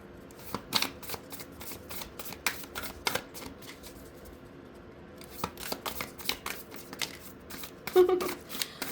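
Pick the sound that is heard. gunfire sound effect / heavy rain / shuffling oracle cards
shuffling oracle cards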